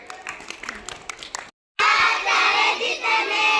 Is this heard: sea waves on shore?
no